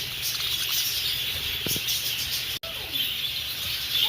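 Birds in a bird sanctuary zoo in Broadway, North Carolina chirp and tweet over a steady bright outdoor hiss, with short scattered calls and a brief flutter, no voices.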